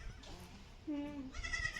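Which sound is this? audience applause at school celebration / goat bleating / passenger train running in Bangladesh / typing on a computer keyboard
goat bleating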